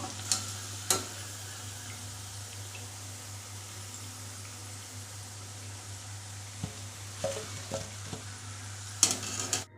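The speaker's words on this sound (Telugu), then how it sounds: "ఈ కొద్దిగా వేగనిద్దాం ఇలా వేగితే సరిపోతుంది" Vegetables for veg manchurian frying in a pan, a steady soft sizzle running throughout with occasional stirring scrapes and clinks near the end.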